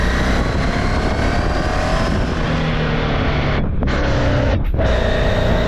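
An old car's engine runs lean, hopping on the overrun, heard as a continuous loud drone with two brief dips in the sound near the end, and no talking.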